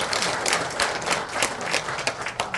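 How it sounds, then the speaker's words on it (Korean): At an alumni association gathering, the audience gives a round of applause for past advisors, a steady burst of many hands clapping at moderate volume for a couple of seconds. "역대 고문님께 다시 한번 큰 박수 부탁드립니다."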